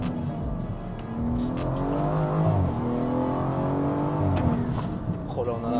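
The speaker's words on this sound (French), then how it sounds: "Oh, dès que turbo il accroche, c'est incroyable." A tuned 650 hp car accelerates hard as its turbo spools up, the engine note rising in a steady climbing drone with harmonic sweeps, loud and close throughout, with voices speaking over it.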